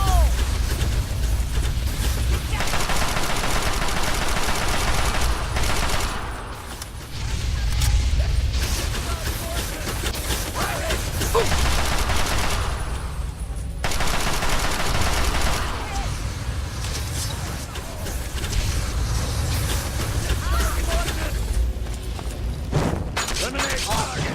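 Gunfire in the video game Fallout 3 crackles in repeated bursts and volleys across a battle in the wasteland, loud and busy, with clanking mechanical sounds and shouted game voices mixed in.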